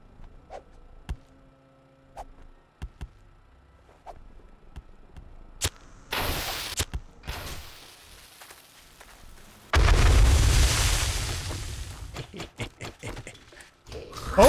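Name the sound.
pipe bomb explosions in video game 7 Days to Die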